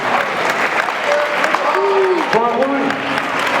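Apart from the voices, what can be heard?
applause for children at a gala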